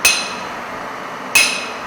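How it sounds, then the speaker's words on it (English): Two sharp metallic hammer blows on a top fuller set over hot metal during forging, each a bright clanging ring that decays slowly, spaced about a second and a half apart. "then apply hammer on the fuller"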